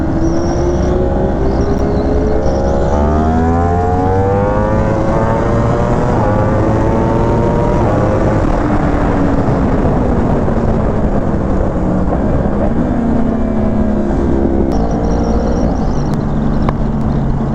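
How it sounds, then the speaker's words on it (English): Sport motorcycle engine at a street race, loud and sustained, revving up and down in sweeping rises and falls with the roar filling the scene, no voices over it. "That bike sounds so good, bro. The bike's tuned very well."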